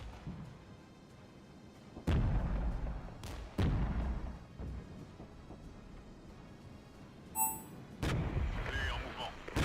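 Artillery fire in the Regiments war game: heavy booming blasts land at intervals, a few loud thuds spaced seconds apart over a low rumbling battlefield background, with brief radio-like chatter mixed in.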